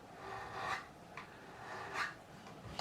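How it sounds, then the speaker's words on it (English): A file rounds over the beveled end of a replacement fret on a Fender Telecaster, giving a few slow raspy rubbing strokes, close and moderately quiet, with no talk. "going to round over that bevel with this, just a few strokes"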